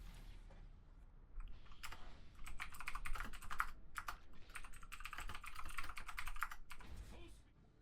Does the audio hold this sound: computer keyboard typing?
yes